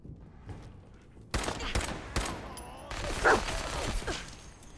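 Minigun and other gunfire in the video game Fallout 4, loud bursts of rapid shots with sharp cracks and mechanical clatter, continuing through the clip amid in-game action.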